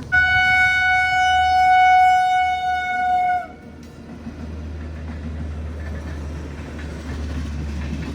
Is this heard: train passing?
yes